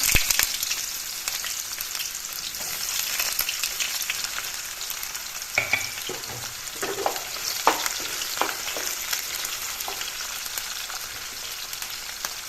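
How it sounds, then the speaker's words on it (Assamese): Onions and whole spices fry in hot oil in a kadai for a chicken curry, a steady close sizzle running the whole time with brief clinks and stirring scrapes partway through. "অলৰেডি কেৰাহি গৰম হ'বলৈ দিছোঁ মই বা তেলখিনিও গৰম হৈছে এয়া দি দিছোঁ আফুৰণ কেইটামান পিঁয়াজখিনি দি দিছোঁ"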